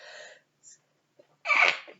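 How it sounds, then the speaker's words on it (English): One big close sneeze erupts after a soft breathy intake, loud and sharp, standing alone in an otherwise quiet indoor room. "That's a big sneeze."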